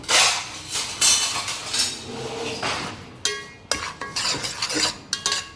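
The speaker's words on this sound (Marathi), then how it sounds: "हा दोन वाटी रवा आहे तो आता आपण व्यवस्थित भाजून घेऊया" Two bowls of semolina (rava) stirred and dry-roasted in a pot for besan ladoo, with a utensil repeatedly scraping and clinking against the metal in close, uneven bursts and brief pauses.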